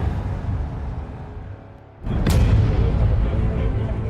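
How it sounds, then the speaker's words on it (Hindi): Explosion sound effects echo in a news report on conflict in the Middle East: a low rumbling bed gives way to a sudden loud boom with a sharp crack, followed by sustained heavy rumble. "मिडिल ईस्ट में धमाके पर धमाके गूंज रहे हैं।"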